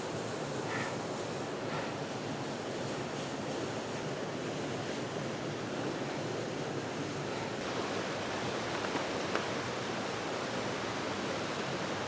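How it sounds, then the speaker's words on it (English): Steady roar of Thunderbird Falls in winter, cascading water giving a broad, constant hiss-like rush throughout, fairly close and unbroken. "Thunderbird Falls in the winter, ladies and gentlemen."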